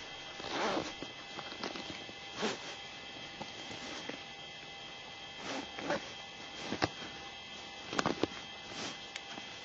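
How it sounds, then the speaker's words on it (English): A zipper is drawn closed on a hunting collar bag in a series of short, brisk rasping pulls with gaps between them, close and fairly quiet over a faint steady hum. "Zip your bag up."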